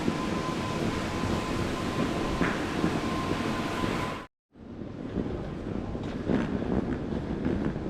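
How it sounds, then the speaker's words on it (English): A train pulls in at Southport station, making a loud, continuous rumble with wind buffeting the microphone and a faint steady whine, briefly cut off midway before the heavy rolling noise resumes. "here's a train to Wigan"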